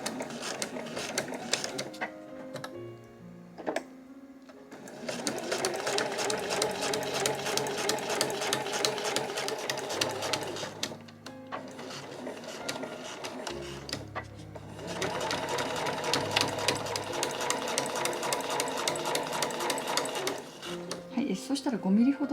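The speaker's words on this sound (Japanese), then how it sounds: "家庭用ミシンの場合は押さえの端を使って縫っていきましょう。" A household sewing machine stitches the side seams of a one-piece cotton tote bag, running in long steady bursts separated by short pauses.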